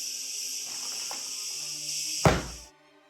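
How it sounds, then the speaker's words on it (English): A steady, shrill cicada drone fills the air throughout, broken near the end by a single dull thump before the buzzing cuts off. "I'm sorry for the loud cicada noise."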